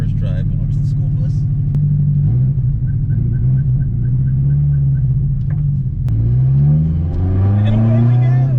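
A Honda S2000 sports car on coilovers pulling away from rest on its first drive, the engine rumbling low then rising in pitch as it accelerates through the revs, close and loud from inside the cabin.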